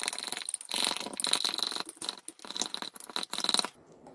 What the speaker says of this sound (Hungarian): És tiszta erőből össze kell keverni.